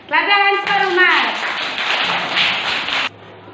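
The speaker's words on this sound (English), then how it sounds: "Clap your hands for Umar." Classroom of children clapping their hands for a classmate during a grammar activity, a dense burst of applause lasting a few seconds after a teacher's voice, then stopping abruptly.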